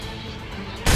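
A single rifle shot fired in the video game Assassin's Creed Rogue bursts out loud and sharp near the end, following a low steady game background.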